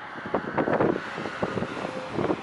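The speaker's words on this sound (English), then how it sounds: "It's like a 20 mile an hour wind." Strong outdoor wind of about 20 miles per hour buffets the microphone in uneven rumbling gusts at a small concrete pour, with a few brief clattering bits mixed in.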